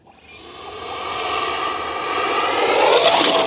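A 64mm Arrows Marlin RC jet plane takes off, its electric ducted fan building from a quiet start into a loud, steady high-pitched whine with a rising whoosh as it climbs away.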